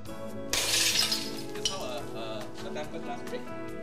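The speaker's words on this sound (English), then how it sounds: "Now we see how the tempered glass break." A pane of tempered glass bursts with a sharp, bright shatter, and the crumbled fragments then keep tinkling and clinking for a few seconds.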